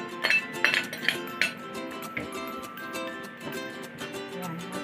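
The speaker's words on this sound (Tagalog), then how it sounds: "Pagsasama-samahin na natin itong ingredients natin. Haluin ko lang siya" A utensil clinks against a bowl while grated cassava and sweet potato are stirred together, several sharp taps early and then softer scraping and clatter, close and fairly quiet.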